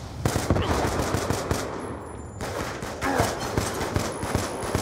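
Rapid automatic gunfire from the video game Call of Duty: Black Ops II, dense repeated bursts running nearly throughout, with a short break midway, loud and close with constant background noise.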